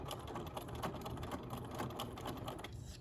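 A sewing machine with a side-shifting presser foot stitches slowly along fabric shoelaces, giving a steady, close mechanical chatter of needle strokes that runs continuously throughout with no talking.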